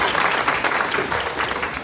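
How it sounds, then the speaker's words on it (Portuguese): A conference audience applauds its speakers and guests, dense continuous clapping from many hands filling a hall, steady and moderately loud throughout. "Vou pedir uma salva de palmas para os nossos palestrantes,"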